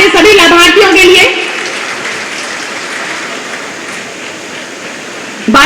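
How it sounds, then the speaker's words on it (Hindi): Loud applause from a crowd at a government housing-scheme ceremony in Chitrakoot for beneficiaries receiving house keys, a broad hiss of clapping that follows brief talk and carries on steadily to the end. "एक बार जोरदार तालियां हमारे सभी लाभार्थियों के लिए।"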